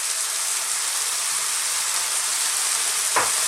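Sliced onion sizzles in a hot pan with beef and a little star anise for a Chinese beef and bean stir fry. The steady, loud frying hiss runs without a break, and a brief clatter comes near the end.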